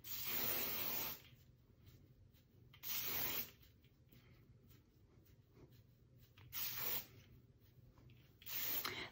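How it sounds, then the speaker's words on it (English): Hairspray is sprayed onto curled hair during styling, coming as four short, soft hissing bursts at irregular intervals against a quiet background, with no talking. "So this hairspray is great."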